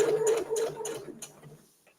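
A sewing machine edge stitching a fabric gift bag, a brief close run of rapid ticking stitches that slows and fades out.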